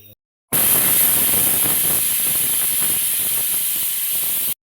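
A pressure cooker whistling while rice upma cooks, one loud unbroken hiss of escaping steam that starts abruptly, holds steady for about four seconds, then cuts off.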